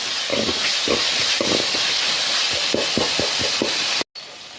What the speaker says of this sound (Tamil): மஞ்சள்தூள் கொஞ்சம் நல்லா வதக்கி விட்டுக்கலாம்.